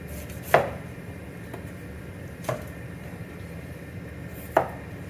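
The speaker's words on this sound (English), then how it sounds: "I'm going to show you how to work with the sweet pepper. So we start by removing the bottom and the top." Knife chopping through a sweet pepper on a cutting board, three separate crisp cuts spaced about two seconds apart, close and clear with no talk.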